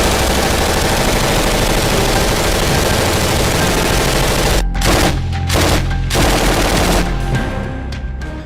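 Rapid sustained gunfire and shelling along the Afghanistan–Pakistan border, dense loud bursts of shots rattling on continuously, then a few sharper gaps between volleys near the end.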